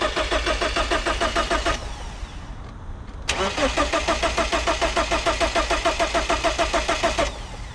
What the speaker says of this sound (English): we're with a Z3 that isn't starting